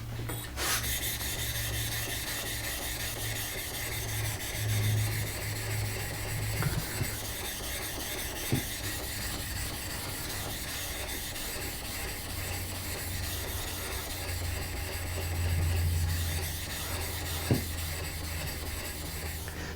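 A steel blade is worked back and forth on a Sigma Power ceramic waterstone, giving a steady, close grinding rasp with rhythmic strokes and occasional sharp scrapes throughout, with no talking.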